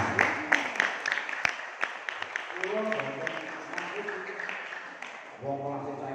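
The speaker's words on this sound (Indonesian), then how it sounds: "Tepuk tangan." Scattered clapping rises into a light round of applause from a crowd at a village religious gathering, mixed with ongoing talk and murmuring voices.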